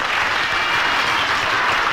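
A 1959 television studio audience applauds, a dense steady wash of clapping from many hands, loud and sustained with no voices over it.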